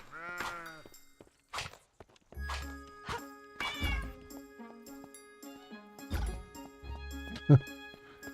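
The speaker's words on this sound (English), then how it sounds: "That cat is pissed." An angry cat in Escape From Duckov lets out several harsh, drawn-out meows spaced across the scene, loud and close, with footsteps and other game sounds between them.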